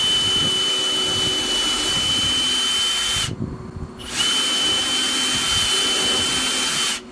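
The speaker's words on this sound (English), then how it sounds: "and then pre-drilled holes." Cordless power drill boring pre-drilled holes in timber for a shed base: a loud, steady whining drone that stops briefly, then runs again at the same pitch, with no voices.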